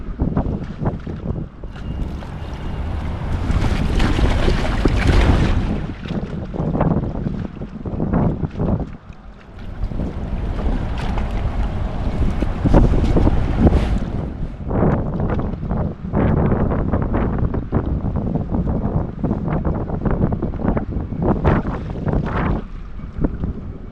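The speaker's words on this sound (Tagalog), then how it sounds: "Pag nasa gitna ka ng dagat, ganito kalakas ang alon" Strong wind buffets the microphone while waves churn and slap around a boat at sea near a dam outlet, a loud continuous roar with gusting surges.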